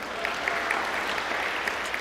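An audience at a spiritual talk bursts into dense, continuous clapping, steady and fairly distant, with a few sharper individual claps standing out over about two seconds and no talk.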